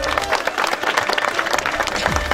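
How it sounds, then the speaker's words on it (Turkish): A village wedding crowd breaks into lively applause, dense clapping filling the scene throughout, with a faint voice or two mixed in underneath. "Bir alkışta Turan abi alalım."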